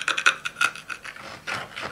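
A knife blade scrapes back and forth across a glass phone screen protector in quick, rasping strokes, close and fairly loud with no voices.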